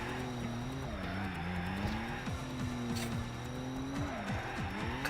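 Toyota Supra race car in Assetto Corsa: a steady engine drone that rises and dips as it shifts through the gears, with tire noise and a faint music bed running underneath.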